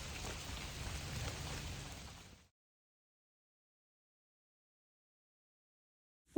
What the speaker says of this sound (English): We didn't quite beat the rain back.